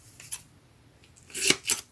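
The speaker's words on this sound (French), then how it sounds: "Alors mon ciseau, il est là." Scissors snip double-sided carpet tape in a few quick, crisp cuts, one light snip early on and then two louder close snips near the end.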